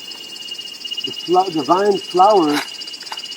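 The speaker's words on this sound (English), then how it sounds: "You can hear the cicadas singing now." Cicadas sing in a tropical ethnobotanical garden at an ecolodge, a continuous high buzzing drone running throughout while someone talks over it.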